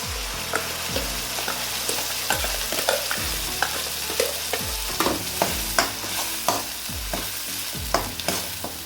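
Ground lentils stir-frying in hot oil in a pan for mutton kaima, with a steady close sizzle and rhythmic scraping strokes of a spoon roughly every half second.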